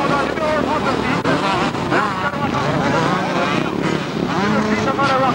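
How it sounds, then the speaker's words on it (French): Honda motocross motorcycles race in a French Moto Cross event, their engines droning and whining steadily throughout, heavily mixed with constant announcer commentary in French. "c'est maintenant l'Honda numéro 4 de Blanc, troisième l'Honda numéro 36 de Leland-Franck"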